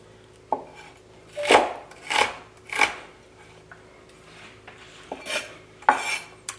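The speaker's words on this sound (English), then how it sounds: "And then you can cut. Every time you cut onion, make you cry." A knife chops through onion on a cutting board as vegetables are prepared for a brown rice and vegetable curry. Sharp, irregular cuts land about once a second, close and distinct.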